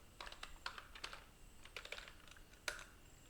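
Quiet, close typing on a computer keyboard, a quick irregular run of light key clicks and taps with a slightly firmer keystroke near the end.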